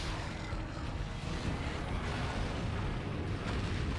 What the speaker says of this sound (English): Gotta be careful of the lasers.